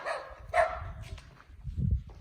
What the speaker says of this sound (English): Not sure what he's barking at.